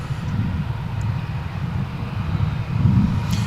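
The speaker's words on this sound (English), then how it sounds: "we've got another Dreamliner coming in, another 787-9" A Boeing 787-9 Dreamliner, American Airlines Flight 116 from Maui, on approach to land at DFW on runway 18 left, gives a steady low airliner roar that swells slightly toward the end.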